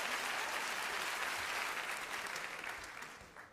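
Audience applause at a comedy show, a sustained wave of many hands clapping that fills the room, then gradually tapers off toward the end.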